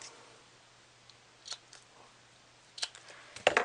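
Small ribbon scissors snip Real Red ribbon for a greeting card, giving a few short, crisp metallic snips and clicks spaced apart against a quiet background, recorded close up.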